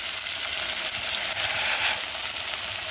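Zatarain's jambalaya mix sizzles in a pot, a dense, even, close frying hiss with a faint crackle that holds steady throughout, no voices over it.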